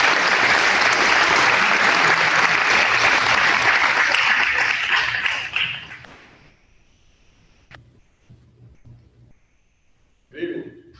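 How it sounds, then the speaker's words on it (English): Sustained audience applause at a Cum Laude Society honor induction ceremony, loud and full for about five seconds before fading to scattered claps and quiet room noise. "Let's give him a round of applause."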